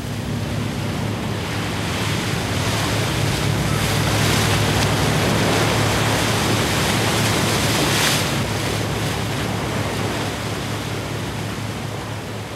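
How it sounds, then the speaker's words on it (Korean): Rough sea surges around a mackerel fishing boat in the Korea Strait, about 65 miles off Busan. The waves make a loud, steady roar of broadband wash with wind noise and no voices. "두 다리로 서 있을 수 없을 정도의 파도다."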